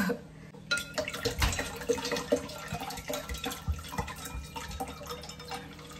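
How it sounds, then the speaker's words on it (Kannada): Water pours into a cooking pot in a home kitchen, a close, uneven splashing and gurgling stream with small drips that rises and falls in short surges, no talking. "ನೀರು ಹಾಕ್ಬೇಕು"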